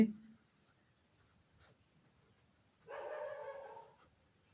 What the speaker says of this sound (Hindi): यहाँ हम लिख दे रहे हैं